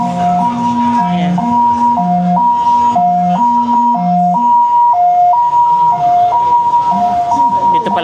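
An emergency vehicle siren on a street in Taipei wails in a steady two-tone high-low pattern, loud and close throughout, over faint street noise.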